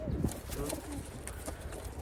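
A young blue bar racing pigeon with white flights coos softly in a short, faint burst, with a bit of background murmur.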